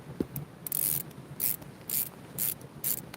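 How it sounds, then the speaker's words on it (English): Boots being put back on outdoors at night, giving a series of sharp clicking and rasping bursts, about five of them spaced roughly half a second apart, close and moderately loud against a low background hum with no talk. "That clicking noise you're hearing is me putting my boots back"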